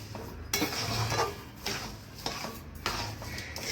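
Sugar being stirred into carrot halwa in a pot, a spoon scraping and clinking against the metal in several short, quiet strokes up close.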